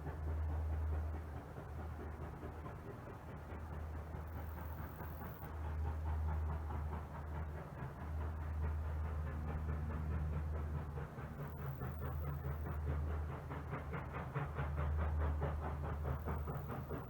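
Kettle Valley Railway steam train in Summerland rolling along its rails, a faint, steady rumble with soft rhythmic clatter repeating throughout, no voices.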